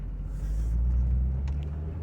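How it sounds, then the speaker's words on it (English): A 2001 Corvette C5 rolls over speed bumps at low speed, its engine giving a steady, loud low rumble from inside the cabin, with faint thumps from the suspension and no talking. "Oh look, we get to practice going over speed bumps."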